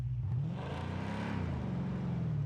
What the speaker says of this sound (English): Nice sounding engine, though.